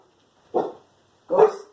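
A dog gives two loud, close barks about a second apart against an otherwise silent background.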